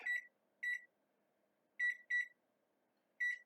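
A kitchen timer beeps as it is set during muffin baking, five short electronic chirps: two close together, then a pair in quick succession, then one more, each clear against near silence.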